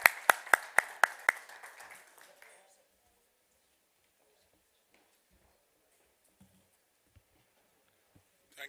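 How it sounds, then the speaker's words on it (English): Brief applause in a conference hall: a quick run of sharp, evenly spaced claps that fade within a couple of seconds into near silence. "Can we give him a huge round of applause"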